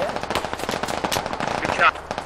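Rapid gunfire in the military shooter game Squad, a loud burst of closely spaced shots rattling for about two seconds, with a faint voice at the end.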